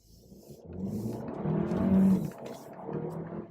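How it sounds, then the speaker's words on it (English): A Hyundai Kona small SUV pulling away with its all-wheel-drive lock engaged, the engine note rising steadily and then easing off, heard from inside the cabin with no talking. "same exact maneuver, same exact throttle, but with all-wheel drive lock on."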